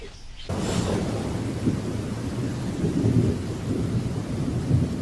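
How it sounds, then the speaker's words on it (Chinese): Steady rain pours down with rolling thunder rumbling through, a dense broadband wash that swells slightly in places and holds loud and continuous after a brief quieter start. "下雨了。"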